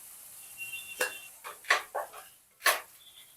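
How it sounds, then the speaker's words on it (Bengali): A utensil stirs vegetarian Kashmiri potato curry (aloo dum) in a pot, making several close, separate scraping and clinking strokes in an irregular rhythm against a quiet background, with no talking. "আবার একটু ভালো করে নাড়িয়ে নিলাম"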